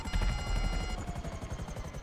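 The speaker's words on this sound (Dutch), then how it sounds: "ik ga snel mijn helikopter landen." A helicopter in GTA 5 comes in to land with a loud, close, steady rhythmic rotor thump, heavy low chopping that eases slightly after the first second, with no talk over it.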